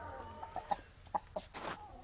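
A rooster clucks softly several times in short, scattered bursts, fairly quiet against a faint background hum.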